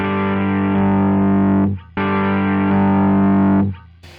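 A distorted electric guitar played through a VHT D50 amp rings out in two loud sustained chords, each held for nearly two seconds before being cut off, with a brief noisy scrape at the end.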